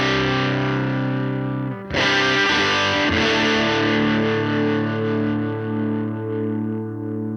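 Heavily distorted electric guitar chords through a cranked amp on a Tone Master Pro ring out loud and sustained, a fresh strum hitting midway and fading slowly with thick, saturated tone.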